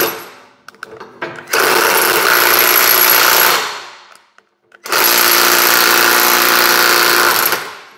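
Parkside cordless impact wrench loosening screws, two loud, close bursts of dense rapid hammering impulses, each lasting about two to three seconds with a short pause between, preceded by a few clicks.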